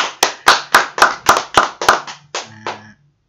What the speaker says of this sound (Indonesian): Kita kasih tepuk tangan buat Sesi dong.